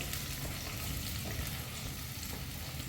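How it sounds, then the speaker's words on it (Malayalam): Ginger, garlic and onion sizzle steadily in hot oil in a frying pan for a fish curry, a dense, even crackle heard alone without voices. "അപ്പോൾ നമ്മുടെ ഇഞ്ചി, വെളുത്തുള്ളി, സവോള എല്ലാം നമുക്ക് അതിലേക്ക് ഇട്ട് കൊടുക്കാം."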